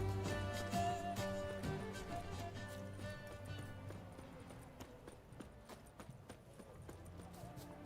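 Horse hooves clip-clopping at a run in Witcher 3, a steady rhythmic patter under a dense game soundtrack and voices, fairly prominent throughout.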